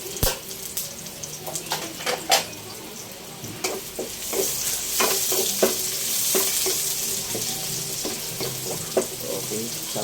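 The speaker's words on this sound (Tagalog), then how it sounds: "po muna natin igisa yung bawang at sibuyas." Garlic and onion being sautéed in a pan for bopis make a continuous close sizzle, broken by repeated sharp scrapes and taps of a spatula stirring against the metal.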